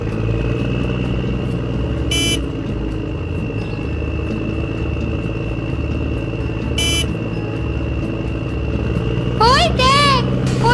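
A cartoon motorcycle speeds off as a fleeing fox escapes on it, its engine a steady droning roar throughout. A short horn-like toot sounds twice and rising, warbling tones come near the end.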